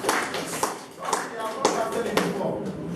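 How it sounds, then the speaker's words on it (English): Church congregation clapping, a quick flurry of hand claps and taps in an uneven rhythm at moderate volume, with voices underneath. "Clap for the Lord Jesus"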